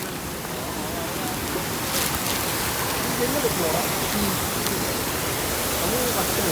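Steady heavy rain pours near a waterfall in the Bonakkad forest, a dense, continuous roar of water and drops that stays loud and even throughout.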